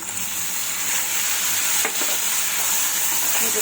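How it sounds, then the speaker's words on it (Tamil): Ground tomato for tomato thokku sizzles and crackles loudly and continuously in a hot pan with browned onions, with a few faint stirring knocks and no voices. "இப்போது அரைச்சி வச்ச தக்காளி போட்டுப்போம்."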